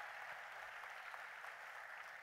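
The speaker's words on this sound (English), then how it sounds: "Can I get a round of applause for them?" An awards banquet audience applauding, a faint, steady wash of many hands clapping together with no talk over it.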